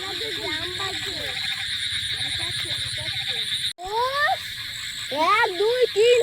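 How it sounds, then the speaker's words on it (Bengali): A loud nighttime frog chorus after heavy rain, steady and dense, with a person talking over it in short rising and falling phrases, the voices growing louder near the end. "বিরাট ডাকছে না ব্যাঙ"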